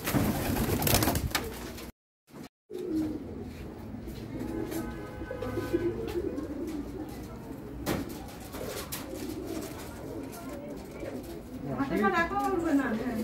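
Pigeons, including a white one, coo softly and repeatedly beneath ongoing conversation, with a brief dropout partway through and some handling noise near the end.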